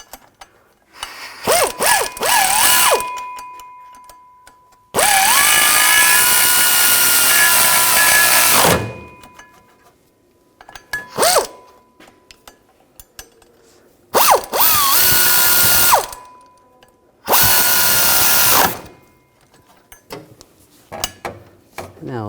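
A power tool and ratchet tighten driveshaft coupler bolts on a 2007-2013 BMW X5, loud whirring bursts of varying length separated by short quiet gaps and lighter clicks, close up and without talk.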